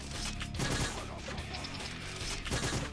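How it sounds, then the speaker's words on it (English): Bolt gun shots ring out in the first-person shooter Painkiller Hell and Damnation, several loud bursts of gunfire in quick succession over dense game noise and explosions, with no speech. "There goes another really pretty decently timed bolt gunshot after I finally hit him there."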